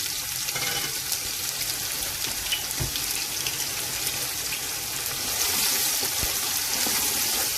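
Onion frying in salted olive oil for a Sunday stew: a steady, dense hiss of sizzling oil, close and loud, continuous for the whole stretch with a few soft knocks of a utensil.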